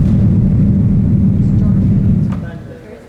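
A deep, rumbling roar of massed low pipe organ notes imitating thunder, loud and sustained, then fading away toward the end.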